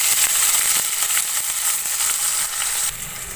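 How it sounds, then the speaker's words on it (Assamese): Chopped onion and garlic sizzling in hot oil in a pan with a bay leaf, a loud, continuous close frying hiss with small crackles and a slight drop in level near the end, no voices. "আৰু এইখিনিতে মই কাটি ৰখা পিঁয়াজ আৰু নহৰু।"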